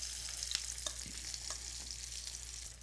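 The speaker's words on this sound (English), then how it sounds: "now I'm gonna flip my falafel" Fava bean falafel frying in a shallow pan, a steady bright sizzle throughout with a few soft knocks as pieces are flipped, close and alone without talk.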